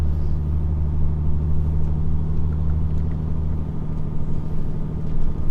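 A heavily loaded truck engine labours on a soggy morning, a steady, loud, close low rumble that swells slightly and holds throughout with no voices.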